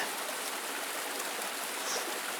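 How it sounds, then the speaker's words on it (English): Steady broadband hiss of rain beginning to fall beside a creek while gold panning, constant and even with no voices. "Oh, that rain is coming in."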